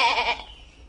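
A goat gives one short, loud bleat in a German fairy-tale radio play of Tischlein deck dich, set in a stable. The wavering call fades into a quiet tail.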